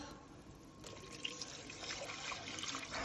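Chicken broth, one and a half cups, is poured into a pot for chicken pot pie, a faint, continuous liquid splashing that grows a little louder and fuller as it goes.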